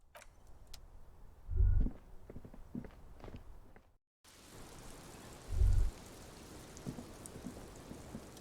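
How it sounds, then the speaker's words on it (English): Steady rain patters in the video game Disco Elysium, a soft continuous hiss with a couple of heavier low thuds and a brief dropout partway through. "what brings you up here in the rain?"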